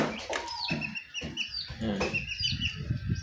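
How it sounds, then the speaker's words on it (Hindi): Chickens and chicks cluck and chirp in a busy farmyard, with high peeping calls over low scratchy clucks, close by and continuous. "और ये देखें, ये भी मुर्गे के बच्चे हैं।"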